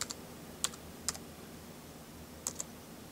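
Typing on a computer keyboard, heard as a few sparse, close key clicks in small pairs and single taps over quiet room noise, with no talking.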